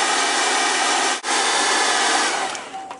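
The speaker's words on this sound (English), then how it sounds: "And I got the hair dryer" A hair dryer blows at close range drying paint on the base of a Creature from the Black Lagoon figure, a loud continuous whooshing roar that cuts out for an instant midway and then fades slightly.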